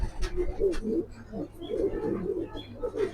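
Racing pigeon cooing softly nearby, a few low throaty coos with light background noise.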